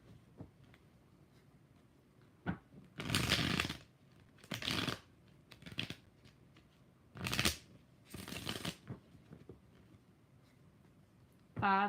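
Tarot cards being shuffled by hand in several distinct bursts of riffling, each lasting about a second, separated by short pauses, with quiet handling noises between them.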